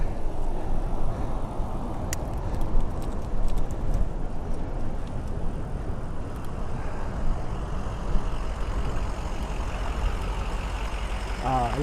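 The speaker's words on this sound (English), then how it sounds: "I love the sound of a diesel." A diesel vehicle engine runs with a steady, low rumble that holds throughout, with occasional clicks and people talking over it.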